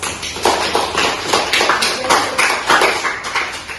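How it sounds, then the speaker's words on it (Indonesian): A classroom audience claps after a group presentation, a fairly loud spell of uneven, overlapping applause that keeps going for the whole stretch. "mari kita berikan aplaus"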